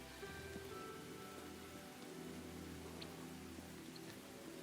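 Steady rain falls as a soft, even hiss of drops in the Tales of the Shire video game, quiet and continuous with no talk over it.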